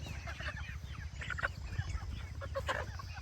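Several chickens cluck and chatter close by in a busy, overlapping flock outdoors on wet grass, with soft low rumbling beneath.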